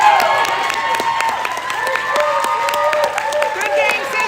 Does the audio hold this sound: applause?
yes